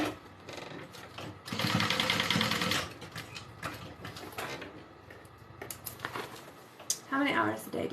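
A sewing machine stitches the side seams of a backpack, with a loud sustained run of stitching early on and shorter bursts after, under and between talk.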